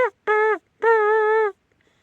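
Mouth call mimicking trumpeter swans, given by a person as two bold, brassy honks, a short one and then a longer one, close up and alone against a quiet background.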